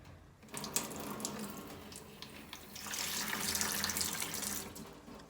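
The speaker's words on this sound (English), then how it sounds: "running water in my studio" Water runs steadily from a tap in an art studio, a close, continuous gush that starts after a brief quiet moment and grows fuller as it fills a sink.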